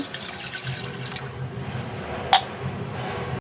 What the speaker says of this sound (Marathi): टोप ठेवला आहे त्यात टाकतो आपण एक ग्लास पाणी